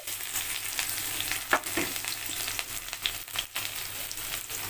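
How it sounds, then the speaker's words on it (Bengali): Chopped garlic fries in a wok with a close, crackling sizzle that runs steadily throughout, punctuated by a few louder pops and stirring scrapes. "এবারে আমি কড়াইতে একে একে দেব সবার আগে দেব রসুন কুচি"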